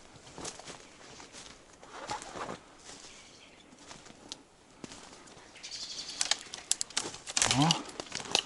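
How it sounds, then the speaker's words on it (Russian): Birds chirp and flap their wings in a lakeside forest, with scattered tweets and a few wingbeat bursts growing busier toward the end, heard near and fairly clear, with no talk over them. "лес оживает. Птицы."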